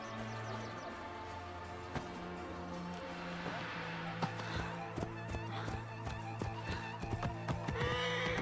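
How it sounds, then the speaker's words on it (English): Horse hooves clip-clop in a steady run with neighing and whinnies in the Assassin's Creed Origins video game, heard over a layered game soundscape of music and ambient effects. "Find a horse."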